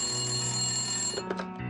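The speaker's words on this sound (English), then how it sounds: "he received a phone call" An old-style telephone bell rings loud and close in a rapid metallic trill that stops abruptly near the end, followed by a couple of short clicks.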